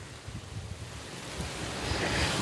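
Wind at Gopi Talav lake in Surat rushes and buffets the microphone in a steady, fairly loud wash that grows slightly stronger toward the end.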